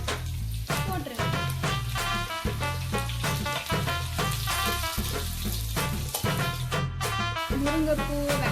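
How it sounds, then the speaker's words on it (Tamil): Drumstick flowers, onion and dried red chili sautéing in a pan, a steady close sizzle with repeated stirring scrapes and no talk. "முருங்கைப்பூ, வெங்காயம், வரமிளகாய் எல்லாமே நல்லா வதங்கிடுச்சு"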